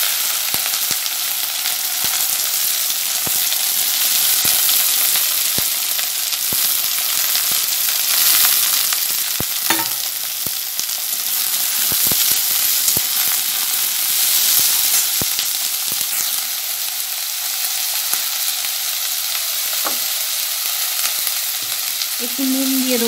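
Potato and cauliflower frying in a pan for chowmein, a loud continuous sizzle lasting over twenty seconds, punctuated by regular sharp clicks and scrapes of a stirring spatula.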